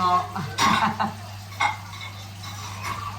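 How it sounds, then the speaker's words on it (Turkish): Dishes clink and scrape with water running softly in the background, with a few brief clatters of plates and utensils close by. "Şimdi güzelce bulaşıkları halledeyim."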